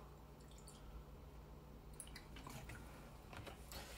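Distilled white vinegar is measured out and poured for an acid-base indicator experiment, heard as soft dripping and trickling liquid. A quiet first half gives way to a few light splashes and drips near the end, with no talking.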